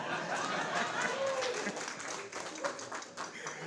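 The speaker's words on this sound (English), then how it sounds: "I do nothing to get a hand clap, so can I just get one anyway?" Audience clapping for a speaker at a panel discussion on future-proofing institutions, a moderate spread of hand claps with some light laughter and murmuring mixed in, fading slightly toward the end.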